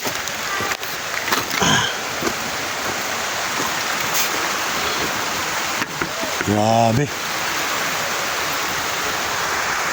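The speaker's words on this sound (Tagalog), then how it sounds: "Bumagsak at yung ulan." Heavy rain pours down steadily in Barangay Sagay, Toledo City, a dense, continuous hiss filling the whole stretch, with someone briefly speaking and a short tonal sound rising near the end.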